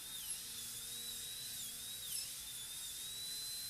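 A dental drill reduces a maxillary canine for a porcelain-fused-to-metal crown, giving a thin, high-pitched whine that dips in pitch now and then as it bears on the tooth, quiet but constant throughout.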